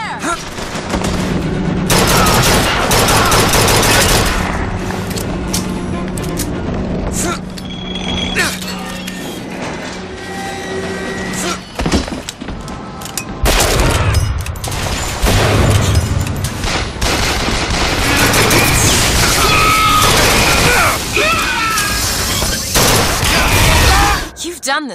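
Bursts of rapid gunfire and heavy explosions in an intense first-person shooter game battle, loud and nearly continuous, with voices of game characters talking over the combat.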